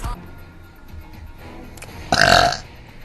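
A deep, bassy burp from someone on a livestream after eating noodles, a loud rumbling belch of about half a second rising out of quiet room tone.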